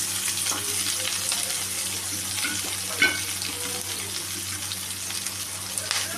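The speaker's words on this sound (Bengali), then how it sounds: "এগুলো আমি একটু ভালো করে ভেজে নেব।" Chopped onion, chili and garlic fry in hot oil in a wok, a steady dense sizzle running throughout with faint stirring clinks and a soft knock near the middle.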